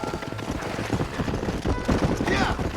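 Horse hooves clip-clopping in the Red Dead Redemption western game, a quick steady trotting rhythm heard close up across the whole stretch along with other game sounds.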